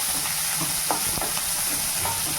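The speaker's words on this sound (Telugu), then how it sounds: "ఫ్రై అయిన తర్వాత ఆనియన్స్, చిల్లీ వేసేసుకోండి" Onions and green chillies fry in hot oil in a pan for a mushroom curry, a steady close sizzle broken by a few soft scrapes of stirring, with no voices.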